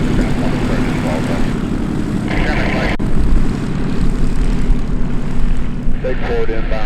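A propeller airplane touches down and rolls along the runway at EAA AirVenture Oshkosh, a loud continuous engine drone and propeller buzz heard close while radio talk continues over it.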